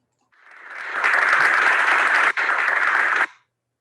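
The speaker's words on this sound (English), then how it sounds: "Did you hear my clap track?" Prerecorded applause clap track played back at the close of a talk, a smooth, even wash of crowd clapping that swells in, holds steady with one brief dropout, and cuts off cleanly, with no voices.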